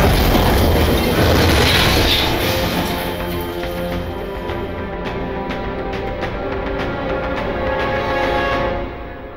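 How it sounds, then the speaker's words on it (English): A grenade explosion in the VR game Half-Life: Alyx, heard as a loud, dense roaring blast that fills the start and then settles into a sustained rumble before tapering off near the end, with no speech over it. "somebody's just grenaded in"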